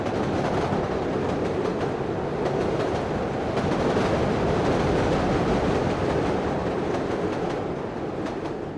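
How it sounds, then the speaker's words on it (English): A Chicago L elevated train, the line that becomes a subway into downtown Chicago, rolls on its rails with a steady, loud rumble and faint clickety-clack that holds for the whole stretch, with no voices. "taking the L, an elevated train that morphs into a subway, into downtown Chicago"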